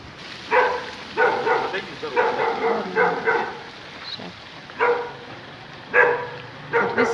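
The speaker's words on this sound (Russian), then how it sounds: "Вот опять собаки нам не рады." Dogs bark in a residential street of the Recoleta neighborhood in Asunción, with several loud, separate bursts of barking coming close by at irregular intervals.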